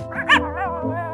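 A man imitates a dog at home, voicing a few short barking yips in quick succession, loud and close, with a drawn-out whine-like tail.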